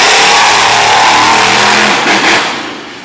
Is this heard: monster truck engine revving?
yes